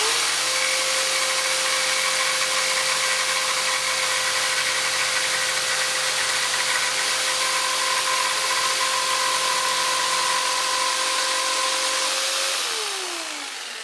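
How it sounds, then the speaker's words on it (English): A jigsaw cuts through scrap wood along a right-angle guide, producing a loud, continuous buzzing drone that holds steady for about twelve seconds and then winds down. No voices are heard. "it will basically guide my jigsaw to cut it straight like this"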